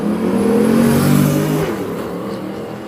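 Drag racing cars in a 13.0 index class at a drag-and-drive event roar off the line together, a loud, rising engine howl close by that fades as they pull away down the strip.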